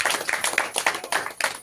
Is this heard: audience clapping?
yes